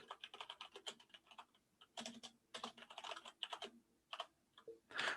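Someone types on a computer keyboard in quick, uneven bursts of close, crisp key clicks, broken by short pauses, with no talking.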